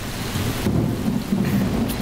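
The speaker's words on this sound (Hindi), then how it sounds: "बहुत बारिश हो रही है" Heavy rain pours steadily in a movie scene while a low roll of thunder rumbles underneath, dense and loud throughout the short moment.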